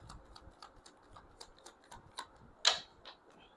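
Tarot cards are shuffled by hand, giving faint, light, crisp clicks in a loose, regular rhythm, with one slightly louder snap near the end.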